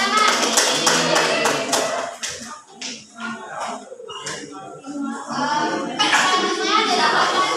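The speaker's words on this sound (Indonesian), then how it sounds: "Ya benar, tepuk tangan." Children in a classroom clap after a group presentation, a short patter of hands mixed with chatter and shuffling, broken by a brief lull before picking up again.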